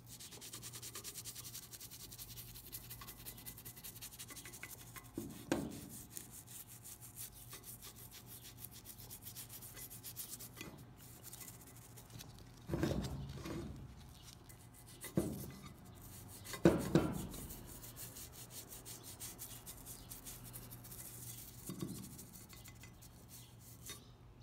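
Gilded bronze ornament on a Detouche clock being rubbed clean in circular motions, soft faint scratchy friction under low background noise, with a few louder scuffs and knocks scattered through.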